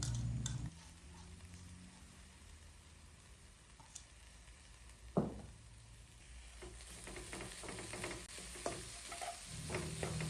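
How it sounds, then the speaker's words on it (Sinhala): Chopped mukunuwenna greens being mixed by hand with grated coconut for mallum produce soft, close stirring and rustling, with a couple of sharp clinks from a utensil against the bowl. "දැන් මේ මුගුණු වෙන්න ටික පොල් ටිකත් එක්ක මේ විදිහට හොඳට කලවම් කරගන්න."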